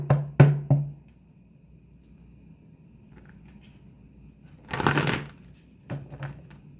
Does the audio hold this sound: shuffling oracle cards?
yes